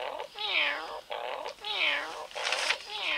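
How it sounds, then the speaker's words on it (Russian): Cartoon cat meowing, several drawn-out rising and falling meows in quick succession, close and clear with short gaps between them. "Ну, он мурлыкает."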